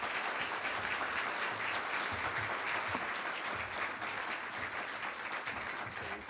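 Sustained applause from a conference audience welcoming a keynote speaker at a chamber of commerce small business awards event, steady and dense clapping filling the room for several seconds with no talk over it.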